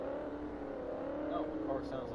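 A Corvette C6 in a racing video game runs a smooth, steady engine drone with a slight pitch waver, with faint voices briefly overlapping near the end.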